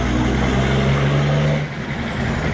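A car driving along with its gearbox shifting smoothly, after a gearbox and differential oil change at 300,000 km, gives a steady, loud low engine and road drone that eases off slightly near the end.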